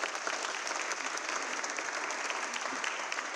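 Steady applause from an audience fills the space, continuous clapping with no voices on top.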